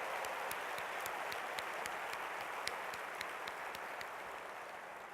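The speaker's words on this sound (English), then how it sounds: "Give yourself a round of applause." A seminar audience applauds steadily after a memory exercise, faint and distant, a continuous wash of clapping with some sharper individual claps standing out.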